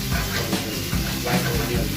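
White onion sizzling in a hot pan as it caramelizes, a steady close crackle with soft periodic stirring or scraping bumps throughout.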